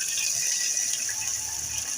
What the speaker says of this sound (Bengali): আমি এ পর্যায়ে একটু পানি দিয়ে দিচ্ছি